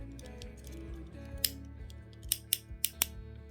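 Ratchet joints in the legs of a Transformers Beast Wars Tigatron action figure, a knock-off MP50 called Jungle Warrior, clicking as they are moved: soft rubbing, then a string of sharp, close plastic clicks.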